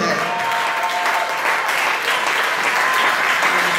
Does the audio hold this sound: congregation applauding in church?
yes